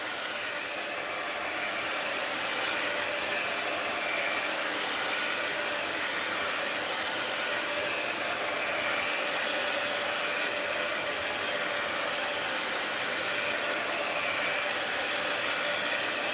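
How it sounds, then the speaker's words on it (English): A heat gun blows steadily over a mixed-media art journal page, a constant loud, breathy roar with a faint whine that holds evenly throughout, with no talk. "let's hit this with the heat gun"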